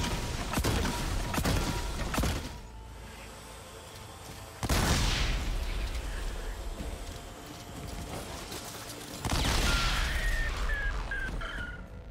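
Scorcher mine launcher mines in Horizon Forbidden West: several heavy booming explosions in bursts, each with a long rumbling tail, over a steady background of combat noise.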